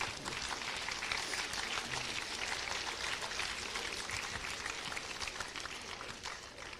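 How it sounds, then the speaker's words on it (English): Audience applause at a high school awards ceremony, a dense, continuous clapping that holds steady and even throughout without pause. "please give them a round of applause."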